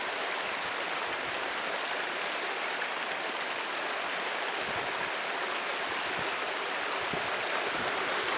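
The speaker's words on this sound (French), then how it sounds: "Cascade." A waterfall in Morocco cascades steadily, a dense, unbroken rush of falling water that holds at an even, moderate level throughout with no voices.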